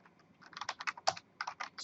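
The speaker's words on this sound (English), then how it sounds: "in the terminal window, type Nano space" Typing on a computer keyboard in a terminal: a quick run of close, crisp key clicks in uneven bursts with a short pause partway through, with no voice.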